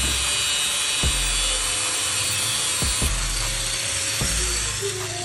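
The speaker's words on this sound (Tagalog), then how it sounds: "ginamitan lang ng grinder sa pagputol ng ating fork spring" An angle grinder cuts through a steel motorcycle fork spring on a Honda Click 125i V3 during a lowering job, giving a loud continuous metallic whine with periodic rasping bursts as the disc bites.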